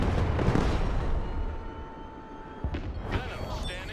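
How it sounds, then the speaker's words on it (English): Heavy artillery fire in the Broken Arrow war game, a dense rumbling barrage of booms that eases off then returns with sharper blasts, loud and continuous. "Seeing my artillery coming in a little late."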